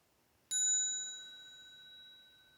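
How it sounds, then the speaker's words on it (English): A single small meditation bell is struck once during a retreat, its clear metallic tone ringing out and slowly fading in an otherwise quiet space. "when you hear the small sound of the bell"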